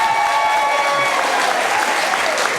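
Loud, dense applause from a congregation at a talk on creative evangelism, continuous clapping filling the whole moment with a thin tonal ring above it.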